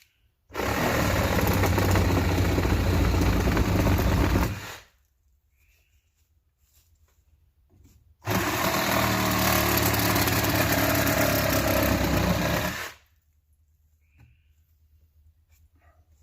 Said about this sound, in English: Grab my Sawzall.